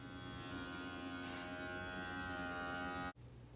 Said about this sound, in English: This is the vacuum sealer that we use to make the jars airtight.